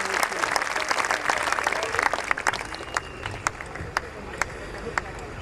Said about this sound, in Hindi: हाथ ऊपर उठाकर जोरदार तालियां